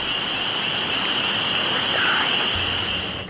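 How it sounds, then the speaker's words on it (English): Soft rain falling at night, a steady close hiss of drops with a faint high tone running through it, no voices. "A soft rain falls"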